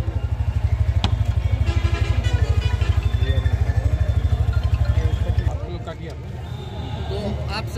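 A Pulsar N150 motorcycle engine thumps in a rapid, even pulse at close range for about five seconds at a dealership launch event, then fades into crowd noise, with someone talking over it.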